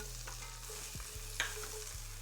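Minced garlic sizzles steadily in melted unsalted butter in a skillet, a soft continuous frying hiss with a few light stirring scrapes and a sharper clink of a utensil near the middle.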